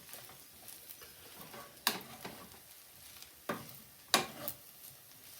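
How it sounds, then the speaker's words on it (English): Vegan Quorn and rice stirred in a frying pan, a soft sizzle under occasional sharp scrapes and clacks of a utensil against the pan, a few distinct knocks spread across the stir. "Stir them all in there, get them in there."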